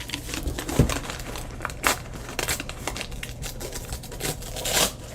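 Paper or plastic sheeting is torn by hand in several short ripping bursts with crinkling between them, close by.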